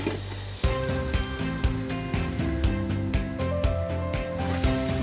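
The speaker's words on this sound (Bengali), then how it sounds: "আর একটু সামান্য ভাজবো।" Green chillies fry in oil with shrimp and beans, giving a steady close sizzle that jumps louder early on, with scattered soft stirring knocks and crackles and no speech.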